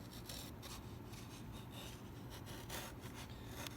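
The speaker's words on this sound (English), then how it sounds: "So 2 hands on the chisel and carve away from you." A hand chisel carves a wooden back strut, giving a steady rasping scrape with repeated short strokes, close and quiet, with no talk.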